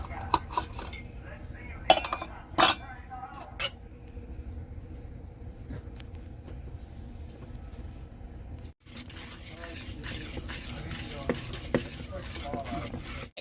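Egg yolks and powdered sugar being mixed in a bowl for an eggnog cake, utensil clinking and scraping against the dish in close, irregular bursts, louder near the start, over steady low background noise.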